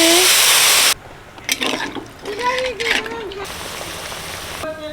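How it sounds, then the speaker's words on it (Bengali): Water poured into a simmering fish curry with potatoes and egg, a loud rushing splash lasting about a second, followed by a voice talking over the quieter bubbling pot. "জল দিয়ে দিচ্ছি"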